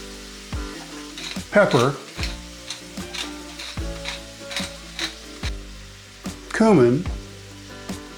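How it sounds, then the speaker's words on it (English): Ground beef browns in a cast iron skillet with a soft, steady sizzle and occasional stirring scrapes, under a speaking voice and light background music. "we'll brown our ground beef in a cast iron skillet"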